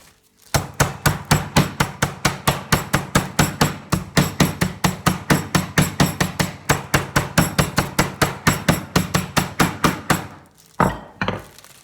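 Two pieces of meat in a plastic bag are pounded in a fast, steady run of about fifty loud, close thuds lasting roughly ten seconds. A few scattered blows follow after a short pause.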